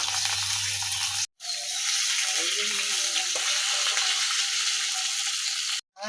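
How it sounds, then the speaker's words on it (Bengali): Fish sizzles loudly in hot oil in a wok for Bengali rui fish curry, a dense, steady frying hiss broken by two brief silent cuts, with faint stirring scrapes in the middle. "একটু মাছ দিয়ে দিলাম"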